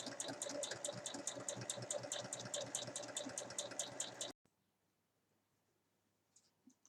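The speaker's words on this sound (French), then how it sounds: "je vais faire une surpiqûre à 5 mm" A sewing machine runs a steady topstitch on a fabric health booklet cover, its rapid, even needle chatter close and continuous for about four seconds, then stopping abruptly into near silence with a couple of faint handling taps.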